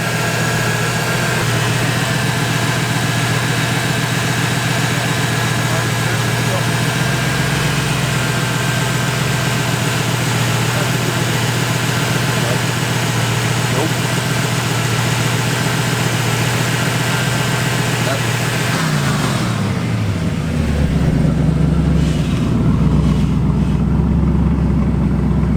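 A Fox body Ford Mustang engine idles with a steady, loud, low drone that holds for most of the stretch, then shifts in pitch as the revs change near the end, with no talk over it.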